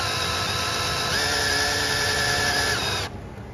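A power drill spins the oil pump on a Mercruiser 4.3 marine engine, a loud steady whirring whine held for about three seconds before easing off, no talk.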